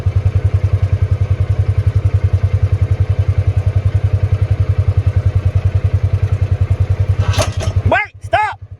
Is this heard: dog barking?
no